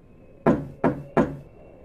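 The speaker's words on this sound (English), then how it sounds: "I woke up to hear knocking on glass." Three sharp, evenly spaced knocks on a glass mirror, close and fairly loud, each with a brief ringing decay, heard alone against a faint steady hum.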